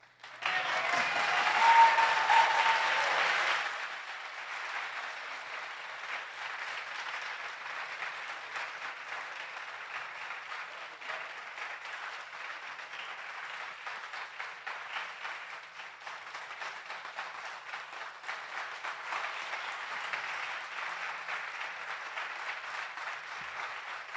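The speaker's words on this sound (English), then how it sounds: "you can clap." Applause from electors at the California Electoral College vote, a loud burst at first that settles into steady, sustained clapping from many hands for over twenty seconds, no talk.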